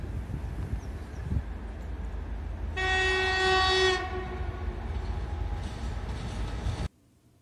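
A train runs along cast-iron rails with a continuous heavy rolling rumble, broken by a loud sustained horn blast lasting about a second, before the sound cuts off abruptly near the end.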